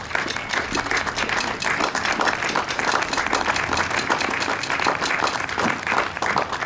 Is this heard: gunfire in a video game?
no